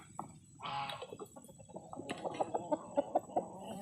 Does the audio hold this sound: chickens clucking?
yes